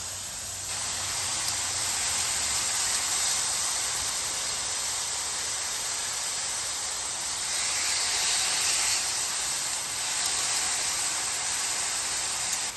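Steak seasoned with chili powder and smoked paprika searing on a flat-top griddle, a loud, even hiss and sizzle that holds steady throughout with slight swells, with no talking.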